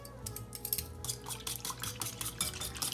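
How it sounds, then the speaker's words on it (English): A whisk beats ingredients together in a bowl, giving a steady run of quick, light metallic clinks and scrapes that carry on throughout, close and moderately loud, with no talking. "Whisk this together."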